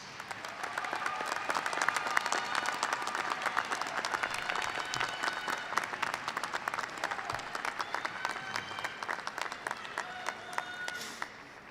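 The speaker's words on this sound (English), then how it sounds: "Graduates, please join me now in giving a round of applause to these family members, friends, and loved ones" A large commencement audience at a university graduation ceremony in an arena applauds steadily, a dense sustained wash of clapping that holds for several seconds before tapering off at the end.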